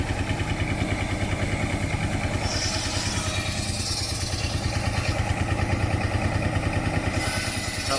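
A Marshall tractor engine from Gainsborough, driving a Marshall saw at a country show, runs steadily nearby with a loud, rhythmic chugging throb and some clatter, with no talk over it.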